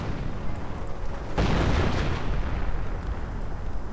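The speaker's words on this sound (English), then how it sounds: "More artillery." Artillery fire in the Company of Heroes EF Mod, a strategy video game, thumps as a heavy muffled boom over a dense, continuous rumble of battle noise.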